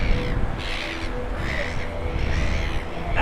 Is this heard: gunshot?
no